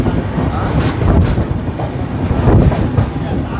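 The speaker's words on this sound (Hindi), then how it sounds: "आरा से दोस्तों अपनी ट्रेन का डिपार्चर हो चुका है" Inside a 3rd AC coach of the Magadh Express pulling out of Ara Junction, a loud continuous rolling rumble plays with faint wheel clatter and background voices.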